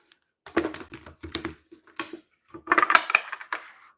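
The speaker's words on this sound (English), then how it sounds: "This deck is very hard to shuffle. It's velvety." A velvety tarot card deck is shuffled by hand in a series of short, soft riffling bursts with brief pauses between them, close and fairly quiet.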